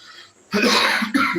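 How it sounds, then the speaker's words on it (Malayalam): A single harsh cough, close and loud, followed by a short second cough after a brief quiet start. "ചുമ പിടിച്ചു"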